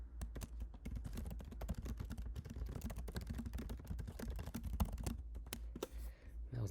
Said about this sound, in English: That was a lot of typing.